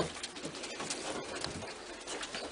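Pigeons coo steadily inside a loft, a low continuous chorus of overlapping calls that runs throughout, close and fairly soft, with no talk over it.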